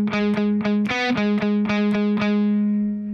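A distorted electric guitar picks a driving triplet riff: repeated staccato note bursts in a steady galloping rhythm, loud and close, ending on a sustained ringing note with no talking.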